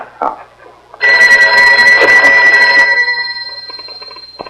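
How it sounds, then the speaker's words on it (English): A telephone bell rings loudly and close, one sustained ringing burst after a brief faint rustle, then trailing off in a fading ring. "Did I hear the phone ring?"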